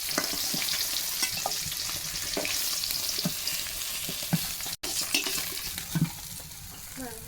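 Fish frying in oil in a pan, with a steady broadband sizzle throughout, close and fairly loud, broken by occasional clinks and stirring knocks.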